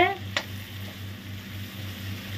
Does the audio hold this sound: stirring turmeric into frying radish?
yes